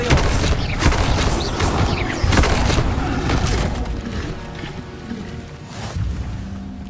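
Expelliarmus disarming spell cast in Hogwarts Legacy, a booming magical burst with crashing impacts and rumbling effects that fade over several seconds, loud and without talk.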